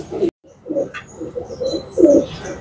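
Giribaz pigeons coo in a run of low, throaty phrases, loud and close, with one brief silent gap early on and a stronger coo near the end.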